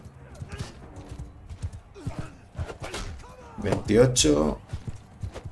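Hoofbeats of horses galloping in a race in the video game Mount and Blade II: Bannerlord, a soft clattering rhythm running under steady talk, with a louder burst of hooves near the end.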